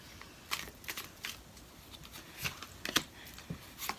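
Tarot cards being shuffled and drawn by hand, a series of soft brisk riffles and flicks at irregular intervals, close and quiet with no talk.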